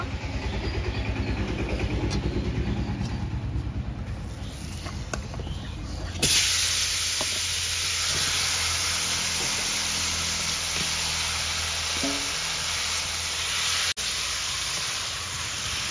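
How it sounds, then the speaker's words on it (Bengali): Chicken frying in hot oil in a pan, a steady close sizzle and hiss that jumps louder partway through as the pieces hit the oil, then continues evenly with a brief crackle near the end. "এবার চিকেনটা ভেজে নেব।"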